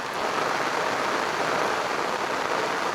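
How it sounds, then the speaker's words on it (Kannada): Heavy monsoon rain pours down steadily near a bridge on the road to Jog Falls, a loud, dense, unbroken hiss with no voices. "ಧಾರಾಕಾರ ಮಳೆ ಸುರಿತಿದೆ"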